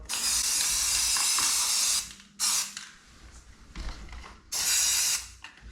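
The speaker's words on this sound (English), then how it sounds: "I use a product called Cover Stain, oil-based primer, stain blocker" An aerosol can of Cover Stain oil-based primer and stain blocker, sprayed around a handle, gives three loud, close hissing bursts with short pauses between them and a light mechanical rattle in the gaps.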